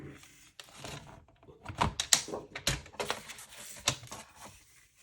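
Paper being cut on a We Are Memory Keepers all-in-one cutting board, a series of close, dry scraping and clicking strokes of the blade sliding along its track, irregular and fairly soft.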